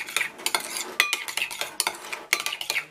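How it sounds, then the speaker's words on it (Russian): Shrimp salad being stirred in a bowl, with a spoon clinking and scraping against the dish in quick, uneven strokes, close and fairly quiet, with no talking. "Все это перемешаем. Пока перемешиваем."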